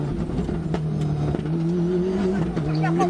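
A Ford Escort rally car on a stage of the Rallye des Cévennes, its engine droning steadily with shifting pitch as it drives, heard over a continuous motor tone.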